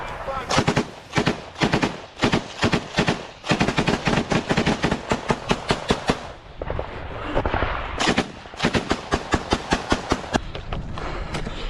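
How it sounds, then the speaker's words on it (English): Rapid bursts of close automatic rifle and machine-gun fire crack in long strings during a firefight between Ukrainian and Russian soldiers on a raid, with short pauses and heavy thumping reports throughout. "both Ukrainian and Russian soldiers engage in a direct fire contact"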